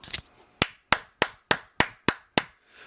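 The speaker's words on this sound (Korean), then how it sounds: "우리 또리 님 박수 한번" Seven sharp, evenly spaced claps from a single person ring out close and distinct, with a softer lead-in clap and quiet gaps between each crisp slap.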